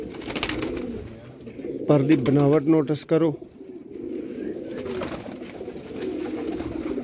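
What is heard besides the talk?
Sialkoti 'chuhe' pigeons cooing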